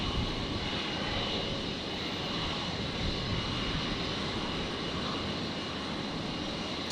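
A fixed-wing aircraft at Brisbane Airport turns and departs, its engine a steady broad roar held at an even level throughout, somewhat distant, with no voices.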